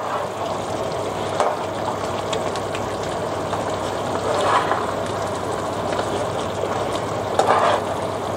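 Bitter leaves are stirred into simmering egusi soup, a steady close bubbling sizzle with soft scraping swishes of the spoon rising now and then, no voices.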